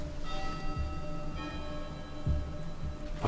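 Bell tones ring out inside an abandoned, fully furnished house, with sustained harmonic partials entering at about 0.3 s and again near 1.4 s. Dull low thuds and a faint background murmur sit under them.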